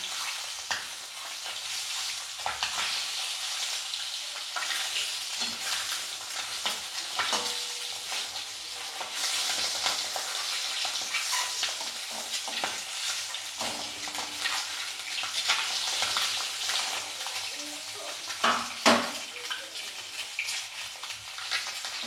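Duck eggs fry in a pan with a continuous bright sizzle and crackle, close and steady for over twenty seconds, with occasional scraping as they are moved.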